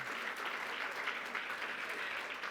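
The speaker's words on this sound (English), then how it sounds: "go ahead and applaud now" An audience at a CNP conference gathering applauds a speaker being introduced, a dense, even wash of clapping heard quietly from a distance with no voices.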